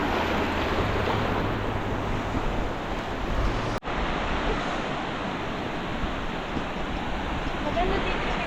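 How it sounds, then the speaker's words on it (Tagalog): Strong ocean waves at sea off Jomalig roar as continuous heavy surf mixed with buffeting wind, and a boat engine hums low in the first half before a brief dropout. "Malakas bigla yung alon."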